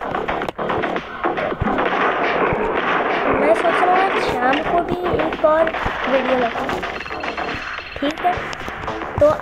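Rapid gunshots from the mobile shooting game Johnny Trigger crack repeatedly over busy game music and effects, loud and close, with a voice talking throughout.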